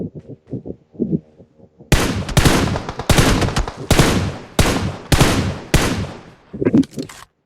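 Gunfire in a battle royale video game: loud automatic bursts come in about six evenly spaced volleys, each a few tenths of a second long, after a quieter stretch of game sounds at the start.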